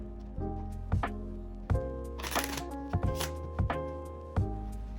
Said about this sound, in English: You can even have the spectator shuffle the cards, give them a really good mix.